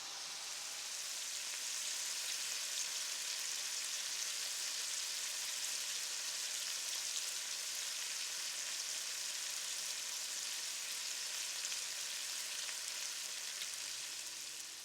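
Rabbit sautéing in a pan with garlic, herbs and balsamic vinegar: a steady, even sizzle and crackle that runs unbroken for the whole stretch, close and moderately loud, with no talking.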